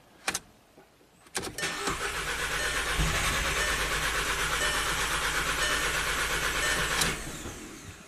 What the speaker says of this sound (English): Definitely crank no start now